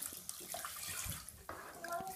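Water pouring and splashing as a baby is rinsed in a bathtub, a soft continuous wash with small splashes and a voice murmuring over it.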